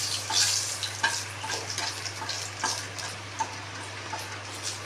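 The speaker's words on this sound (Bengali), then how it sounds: "এই তেলে পেঁয়াজ রসুনটাও আমি ভেজে নেব" Onion and garlic frying in leftover hilsa oil, a soft continuous sizzle broken by occasional stirring clicks and scrapes, fairly quiet and without speech.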